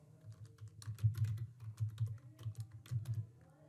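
Fingers tap out a short burst of rapid, uneven keystrokes on a computer keyboard, close and fairly quiet, with no one speaking.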